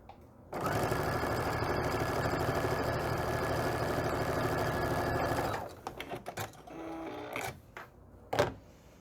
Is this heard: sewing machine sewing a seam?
yes